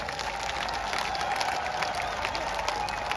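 Audience at a Marwari comedy show in Barmer clapping with both hands raised overhead, a continuous, fairly distant crowd applause with a faint murmur of voices mixed in.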